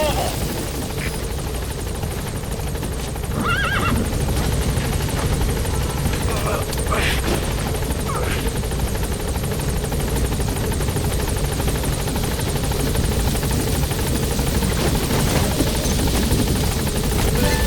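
A support helicopter arriving in Metal Gear Solid V: The Phantom Pain, its steady rotor thump and engine drone filling the whole stretch loudly, with radio voices speaking over it.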